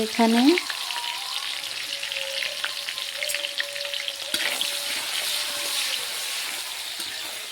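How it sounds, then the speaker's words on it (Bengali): Chopped onions sizzle and fry steadily in hot oil as they brown for a country chicken curry, a broad continuous crackle from start to end with a brief stir at the beginning and no talking. "পেঁয়াজগুলোকে আমি লাল লাল করে ভেজে নেব।"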